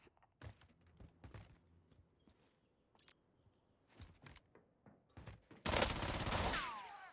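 Warzone gunfire: scattered single shots and short bursts ring out sharply at irregular intervals, then a loud sustained volley of rapid fire erupts near the end, with faint thuds between the shots.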